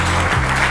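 A studio audience at an Italian football talk show claps in a steady, dense wash of applause, loud and continuous throughout the short moment.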